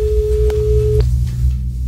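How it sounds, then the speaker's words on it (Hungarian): Outgoing telephone call on a Debrecen radio station's morning show: a steady single ringback tone sounds for about a second, then stops, over a low background hum. "Már csöng a telefon."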